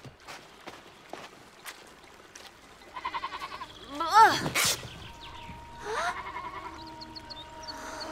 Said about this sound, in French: Tais-toi toute seule, maudite chèvre!